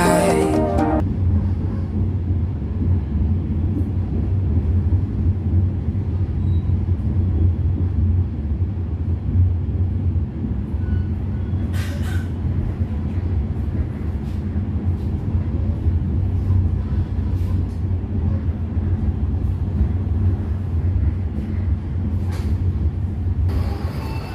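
An Indonesian passenger train, the Mutiara Timur, rumbles on the rails near Banyuwangi Kota station. A low, steady rolling noise runs throughout, heard from inside, with a few brief hissing bursts.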